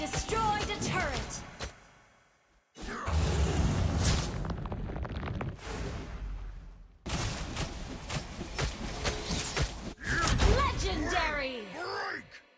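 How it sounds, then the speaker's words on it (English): Mobile Legends game action around a turret being destroyed, with bursts of explosive impacts, crackling effects and layered game sounds broken by short gaps, alongside in-game announcer voices. "Your team destroyed a turret."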